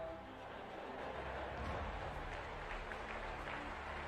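An audience at a motivational talk claps, a soft and distant even patter of applause that swells slightly midway and carries no clear voices.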